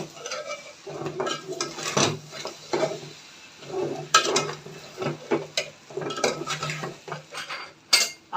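Mutton biryani being served from a cooking pot with a metal spoon, bringing repeated clinks and scrapes of utensil against cookware in an irregular rhythm, close and clear, with no talking.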